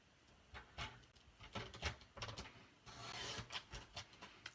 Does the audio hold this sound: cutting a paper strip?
yes